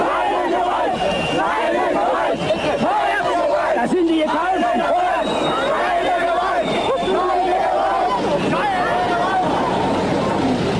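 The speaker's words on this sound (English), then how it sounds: "they banded together in the Alexanderplatz, chanting slogans hostile to the Republic" Large protest crowd massed in Berlin's Alexanderplatz, shouting and chanting slogans hostile to the East German Republic, a dense continuous roar of many voices with rhythmic swells, loud and close throughout.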